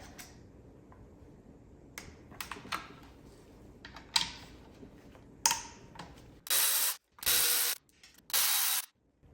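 A ratchet wrench on a small extension backs out 10 mm bolts during a Porsche Boxster 986 engine teardown: scattered close clicks, then three longer bursts of rapid ratcheting near the end, with no talking.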